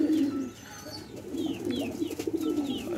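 Domestic pigeons coo nearby in soft, repeated low throaty phrases, with a few brief chirps from other birds mixed in and no talking.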